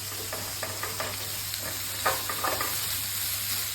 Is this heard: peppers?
yes